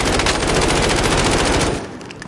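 Rapid automatic gunfire from a gun in a PS4 shooter game, a dense, loud continuous burst for almost two seconds that then cuts off, leaving faint game sounds.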